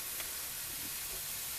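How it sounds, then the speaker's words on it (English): Scrambled tofu steams and hisses steadily in a hot skillet, a broad continuous sizzle filling the short stretch with no talking. "Got a lot of steam coming off of there."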